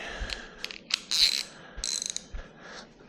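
A ratchet works loose the fill bolt on the final drive of a Honda C50 motorcycle, giving several quick close bursts of clicking pawl sounds in short irregular runs with small pauses between.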